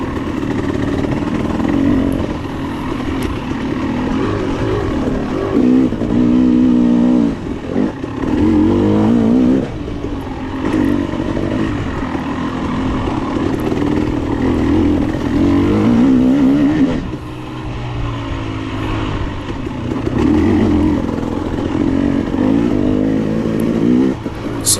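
A 2022 KTM 300 XC-W two-stroke dirt bike races a hare scramble trail, its engine loud and close, constantly revving and surging between throttle bursts with brief dips as the rider shifts and picks through terrain.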